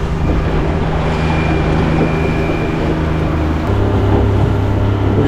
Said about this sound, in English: We're just riding the back of these swells all the way in.